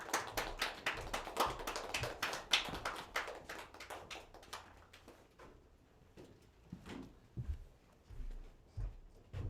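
A church congregation claps during a Sunday worship service, with dense, lively applause for about five seconds that thins into scattered, fading claps.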